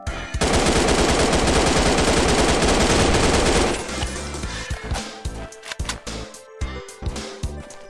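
Gunfire in the Friday Night Funkin FPS video game starts as a loud, sustained burst of rapid automatic shots, then breaks into scattered separate blasts and impacts.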